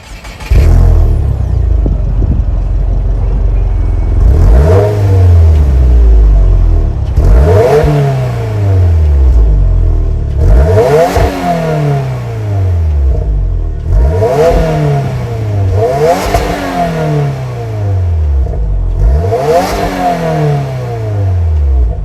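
A 2023 Subaru WRX's 2.4-liter boxer turbo four-cylinder engine revs repeatedly, about six loud surges that climb then drop back, with a rumbling idle between them, close and loud.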